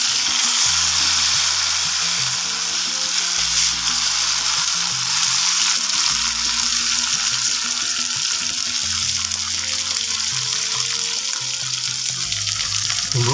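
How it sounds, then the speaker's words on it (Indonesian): Spice paste being stir-fried in a pan for sambal goreng telo, a steady loud sizzle and frying hiss with stirring scrapes, alone with music playing underneath. "Bumbu kita gongsok aromanya sampai betul-betul harum ya lur ya"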